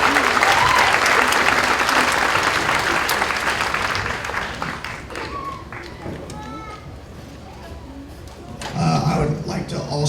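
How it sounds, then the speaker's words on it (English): Audience applauding a middle school intermediate choir at a winter concert, loud sustained clapping that gradually fades, then voices speak and a few claps pick up again near the end. "Please give another round of applause for Intermediate Choir."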